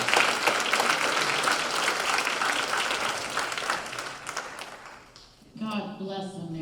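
Audience applause for a singer at an outdoor bicentennial plaza concert in Randolph County, a steady dense wash of clapping that fades near the end as a voice begins speaking.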